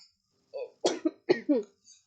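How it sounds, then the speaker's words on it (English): A few short coughs close by, a quick cluster of harsh bursts with brief pauses, then a softer one trailing off, with no talking. "do not be alarmed if you hear me coughing."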